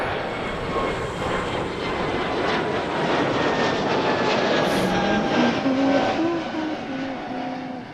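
An airliner powers down the runway for takeoff at Toronto Pearson airport, its engine roar loud and sustained with a rising whine, heard from a distance under a faint radio voice.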